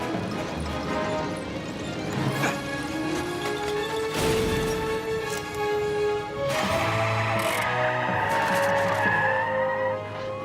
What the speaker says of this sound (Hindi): स्वीट ट्रक हमारी तरफ आ रहा है